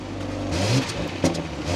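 A 2026 BMW 540i xDrive fires up and revs, the engine surging to a brief climb then blipping again, moderately loud and close with no talking.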